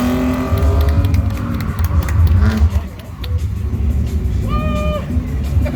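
A drift car revs and roars around a course at the Doncaster racecourse motorshow, engine rising and falling with tire squeal and a sharp whistle-like tone near the end, crowd noise beneath.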